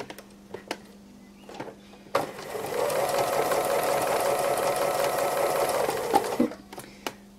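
A sewing machine stitches free motion embroidery on a hare and flower hanging, running steadily for about four seconds after a few faint ticks, then stopping, with quiet handling clicks before and after.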